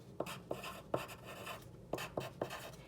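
Handwriting on paper, close and quiet, with a series of short scratchy pen strokes in small clusters separated by brief pauses.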